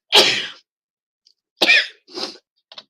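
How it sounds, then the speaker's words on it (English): Three or four sharp, explosive sneezes burst out close by, separated by short silences, with a small trailing puff at the end. "just my daily sneezing fit"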